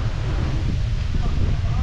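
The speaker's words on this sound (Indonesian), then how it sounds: "Wow, anginnya kencang sekali" A strong wind at a seaside hotel restaurant buffets the microphone with a loud, low rumbling roar that lasts through the whole short moment, with a voice faintly audible underneath.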